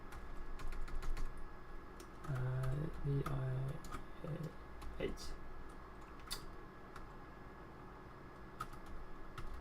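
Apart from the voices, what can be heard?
typing on a computer keyboard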